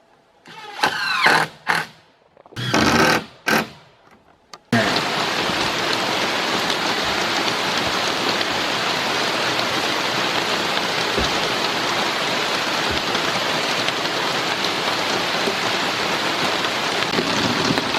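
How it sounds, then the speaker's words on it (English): Steady, heavy rain pours down continuously, a dense hiss of drops on a hard surface, preceded by a few seconds of brief thumps and rustling. "Well, it started raining."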